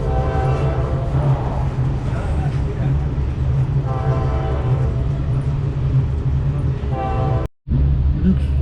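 A train rolls along between Luxor and Aswan in Egypt with a steady low rumble and rattling, while a horn sounds in repeated long toots over the noise.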